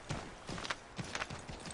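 Horse hooves clip-clop in Assassin's Creed III, a short run of irregular, fairly close strikes on hard ground.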